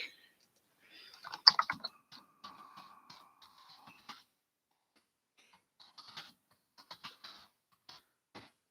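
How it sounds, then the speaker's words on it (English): Bursts of fast keyboard typing, close and crisp, with a brief pause in the middle before another quick flurry of keystrokes. "they're not like typing like super fast like this, like I'm gonna do right now."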